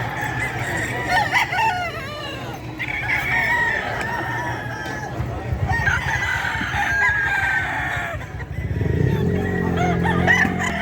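White Kelso rooster crowing at a busy pet market, several loud close crows rising over a background of other clucking fowl and crowd murmur.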